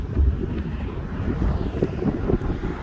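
Strong wind on a golf course, with an American flag flying, rushes and buffets steadily against the microphone as a loud, continuous low roar.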